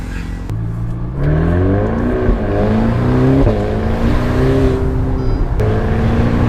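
A Ferrari engine revs and accelerates close by, its pitch climbing through gear changes in a loud, continuous drone.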